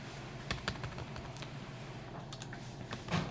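Rapid typing on a computer keyboard while writing a Java program, with irregular bursts of close, crisp key clicks and brief pauses between them.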